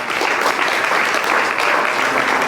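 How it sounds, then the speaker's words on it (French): A church congregation applauding during a sermon, dense steady clapping from a crowd filling the room throughout, loud and close with no clear speech over it. "Acclame Jésus pour ça."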